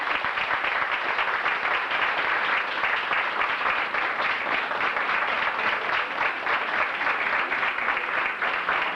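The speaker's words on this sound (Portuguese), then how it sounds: "Vocês poderiam dar uma salva de palmas para Jesus?" An audience at a Christian gathering giving a sustained round of applause, a steady, even wash of many hands clapping at moderate volume without pause.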